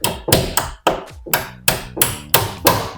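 A hammer taps the center pin of a door hinge, about eight sharp metallic knocks in a steady rhythm, loud and close with no talking.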